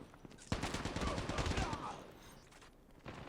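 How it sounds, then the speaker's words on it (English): Rapid automatic gunfire from an ASM-10 in the mobile shooter COD Mobile, a dense burst of shots lasting about two seconds, loud and close, followed by quieter game sounds. "walking and shooting at the same time"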